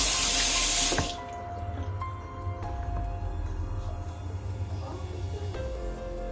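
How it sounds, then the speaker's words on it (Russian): Water runs from a tap, starting with a loud gushing burst for about a second and then settling into a quieter, steady trickling stream over a low hum, close by and with no talking. "А кран в этот момент включился сам по себе, и из него потекла вода."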